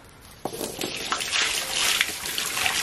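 Water pours and trickles from a container for backyard goats, a steady splashing stream that builds after a sharp start and stays fairly close and moderately loud.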